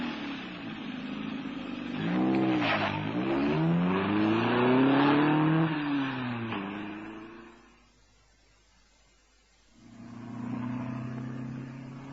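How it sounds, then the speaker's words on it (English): A car engine fires and races off with burning tyres, a loud revving sweep climbing and falling over several seconds, then a brief near-silent gap before the engine drone returns. "heard the engine fire, jumped in, and found myself screaming towards the dense New York traffic and comparative freedom in a swirl of dust and burning rubber."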